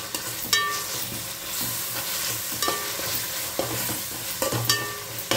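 A spoon stirs ginger garlic paste into deep-fried onions in a hot pan for biryani, with steady sizzling throughout and several sharp scraping clicks against the pan at close range, no voices.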